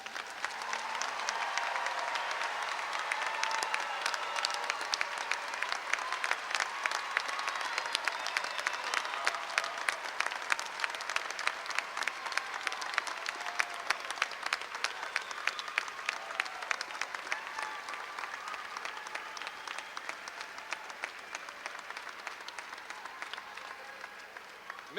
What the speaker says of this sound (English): Please, now a round of applause for all of our graduates.